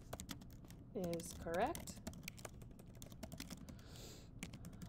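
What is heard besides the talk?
typing text on a computer keyboard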